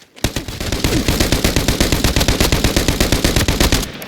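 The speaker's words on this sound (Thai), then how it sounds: "เฮ้ยมันยิงกับใครวะ" Rapid automatic gunfire in the shooter game Arena Breakout Infinite, a loud sustained burst of evenly spaced shots rattling for about four seconds before cutting off.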